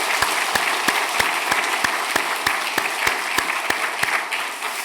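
Church congregation applauding in encouragement of the middle and high school youth group during a Sunday service; steady dense clapping from a sizable crowd, with a few sharper individual claps standing out, continuous throughout.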